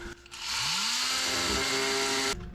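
A power saw cuts into the wooden cabin sill of a boat under restoration. It starts up loud and close, whines steadily for about two seconds with a slight drop in pitch as it bites into the wood, then stops abruptly.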